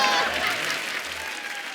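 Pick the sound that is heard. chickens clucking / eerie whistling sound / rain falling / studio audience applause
studio audience applause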